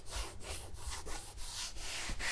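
Hand scuffing of a primed plastic rear bumper on a Honda Accord, a steady rasping rub repeated in short back-and-forth strokes, close and fairly loud with no talking.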